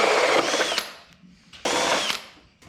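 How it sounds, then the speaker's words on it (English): A power drill with a hole saw cuts into electrical ceiling boxes in two loud whirring bursts, each ending with a sharp click and separated by a brief quiet pause, close by. "I'm gonna go ahead and drill a hole in each one of these boxes"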